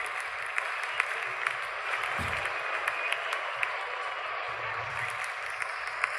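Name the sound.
stadium crowd cheering as cricket openers walk in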